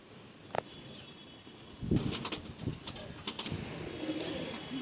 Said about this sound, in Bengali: দেখে নিন আপনারা, একটা মাদি পায়রা আছে, ভালো করে দেখুন পায়রাটা